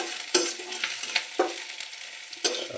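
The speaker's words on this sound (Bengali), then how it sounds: "প্রথমে তেল দিয়ে পেঁয়াজগুলো ভেজে নিচ্ছি।" Onions frying in oil in a pan for a cauliflower, new potato and meat curry, a steady close sizzle broken by several sharp bursts as a spoon stirs them.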